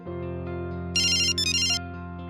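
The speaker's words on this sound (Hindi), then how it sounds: "राजेश भाई, जरा उसको गोखले को फोन लगाओ ना कि क्या हुआ" A telephone ringback tone hums steadily, broken by a brief bright electronic ring burst in the middle, clear and close with no talking.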